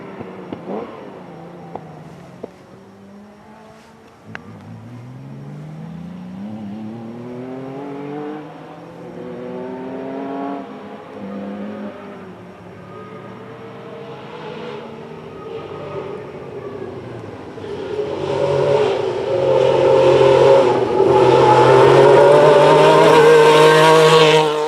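A Metro 6R4 rally car engine revs repeatedly, its pitch sweeping up and down in rising harmonic surges, then swelling into a louder, sustained roar near the end.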